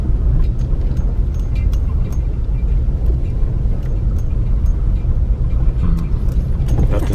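A truck rumbles steadily along a dirt road, a loud and close low engine drone with constant road and tyre noise and scattered crunches and knocks from the rough surface.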